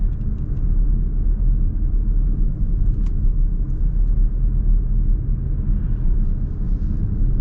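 Steady low rumble of road and engine noise inside a 2025 Mazda CX-30 with a six-speed manual, driving over bumpy pavement; the drone stays even throughout with no talking.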